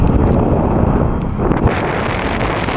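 Strong outdoor wind buffets the microphone at a model airplane flying field, a loud, continuous rumbling roar that stays close and steady throughout, with no speech.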